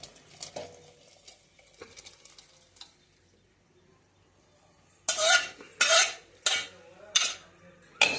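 Sambar being stirred in a pot: quiet scraping and clinks early on, then several loud, close bursts of spoon-against-pot clatter, with no talk.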